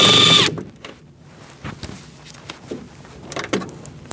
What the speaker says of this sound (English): Using a 10mm, same size, and take out this bolt.